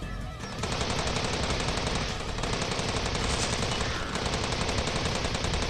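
Sustained automatic gunfire in Steins;Gate 0, soldiers shooting up a laptop and hard drive, a dense continuous burst of rapid shots with only brief dips, loud and close, with no talking.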